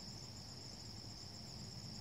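A katydid chirps steadily in a Michigan outdoor setting, a continuous high, buzzy trill that is fairly faint and goes on without a break, with no voices.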